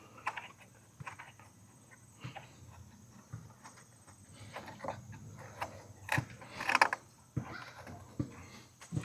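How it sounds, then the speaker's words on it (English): A 13 mm bolt being threaded in by hand during work on a 1.4L Chevy Sonic's battery current sensor, soft intermittent clicks, creaks and metallic handling noises close up, quiet and irregular. "Get your last 13 mil and screw it on in there."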